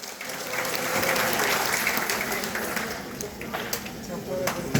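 Audience at a state book award ceremony claps loudly and continuously, swelling then settling into scattered claps, with a voice briefly audible underneath.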